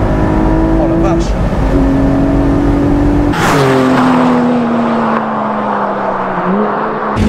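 A Salmson Val 3 engine revs hard, its pitch climbing through gear changes with a sharp shift midway, loud and close, with wind roar underneath.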